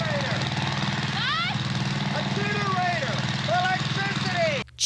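A gasoline generator runs steadily in a horror film from 1974, a loud constant engine drone under rising and falling voices and other film sounds, cutting out briefly near the end.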